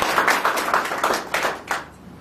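An audience at a marketing business meeting in Balotra claps on request, a burst of close, fairly loud applause that thins out and stops near the end.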